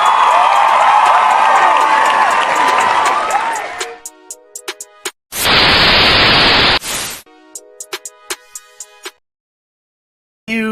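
Applause clap track played on a live show: a dense wash of crowd clapping and cheering for about four seconds, then scattered ticks, a burst of loud static, and silence.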